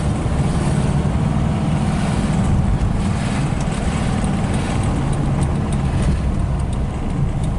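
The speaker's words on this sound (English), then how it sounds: "Nagyon szépen megy a kocsi. Egyenletes a motor." A 1970 VW Type 3 fastback coupe's engine on a test drive, a steady, even low rumble with road and wind noise, continuous and close.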